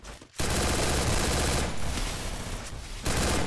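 Dense automatic gunfire in the mobile battle game Free Fire, loud sustained bursts with a brief gap near the start and another short pause before firing resumes.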